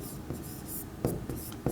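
Pen or pencil writing accounting entries by hand on paper for a double-entry bookkeeping exercise, a steady faint scratching with a few sharper strokes, close and quiet with no talking.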